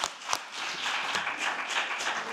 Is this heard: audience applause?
yes